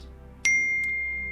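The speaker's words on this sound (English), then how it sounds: "because that is the sound of the text message from your specific person." A single bright phone text-message ding rings out clearly, then lingers in a slowly fading tone over a low background hum.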